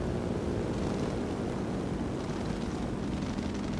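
Enemy aircraft engine in a high-altitude dive bombing sim with an SB2C-1C Helldiver, a steady droning propeller hum that holds at an even level with no talk.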